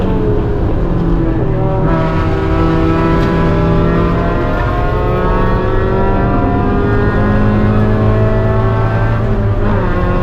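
A race car engine at Mid-Ohio roars loud and close, its pitch climbing and dropping through repeated gear changes as the car brakes and accelerates around the circuit, with no voices.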